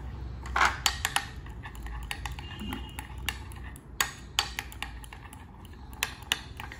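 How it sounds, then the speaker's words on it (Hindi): A spoon mixes curd and turmeric in a bowl, giving scattered light clinks and scrapes against the bowl at an irregular pace, close by and fairly quiet. "इसको हम अच्छे से मिक्स कर लेंगे।"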